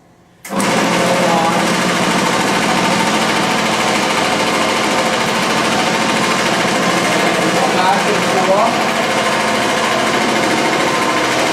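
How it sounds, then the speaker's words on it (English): A rug cleaning machine agitates and beats an Oriental area rug, a loud steady mechanical drone that starts abruptly and runs continuously with a dense buzzing texture throughout. "the agitation from the machine agitates the carpets upside down and beats out the grounded dirt that's been there for any number of years"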